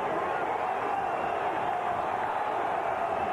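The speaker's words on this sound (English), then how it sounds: "Crowd rises to attention on third and three for Tennessee" Football stadium crowd at a 1995 Tennessee vs Kentucky college game, rising for a third-and-three play: a steady, dense roar of many voices, loud and unbroken throughout.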